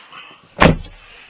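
The door of a 2009 Toyota Corolla Altis with wood-panel trim slams shut once, a single loud, close thud with nothing around it.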